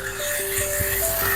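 A little water is poured into a hot pan of frying garlic for chicken fried rice, setting off a steady, close sizzle that holds for the whole moment with no talking.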